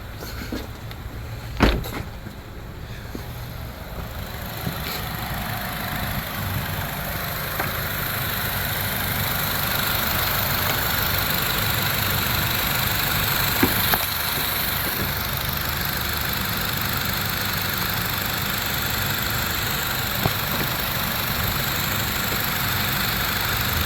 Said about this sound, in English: Now the motor is running